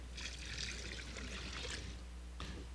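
Apple cider poured into a brine of brown sugar, kosher salt, peppercorns, juniper berries and clove, a faint steady splashing pour lasting a couple of seconds with a small final splash.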